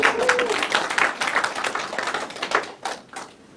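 An audience at a talk breaks into brief clapping, a dense burst of claps that thins and fades toward the end.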